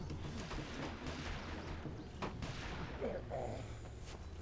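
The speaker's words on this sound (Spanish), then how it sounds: "Disparos." Gunshots ring out in The Walking Dead video game, a few sharp cracks scattered through a dense, loud wash of game noise and music.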